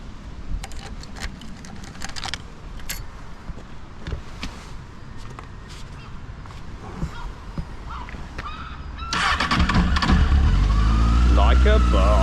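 A borrowed motorbike runs on a UK road in poor weather on the way to a hospital. Its engine chugs at low volume beneath a talking voice with scattered clicks and honks, then a much louder roar, like wind blast, takes over near the end.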